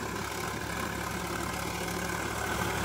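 A Sonalika 47 RX tractor engine runs at a steady, rumbling idle, loud and close, with a continuous throb and no talk over it.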